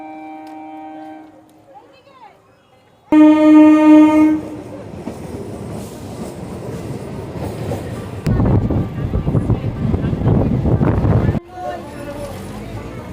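A train arriving at Malatipur station blasts its horn in a loud, sustained burst, after a fainter earlier horn, followed by the rumble and clatter of the rolling cars close by.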